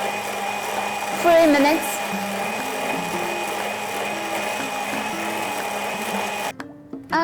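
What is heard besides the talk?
KitchenAid mixer beating cupcake frosting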